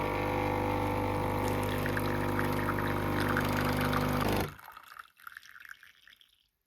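A L'or Barista Sublime coffee machine pours hot rinse water into a glass, a steady loud stream with pump hum that stops abruptly, followed by faint drips.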